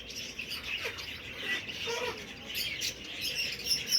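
Birds chirp and tweet in scattered bursts as pigeons fly in the sky, over a steady outdoor background, moderately close, with no talking.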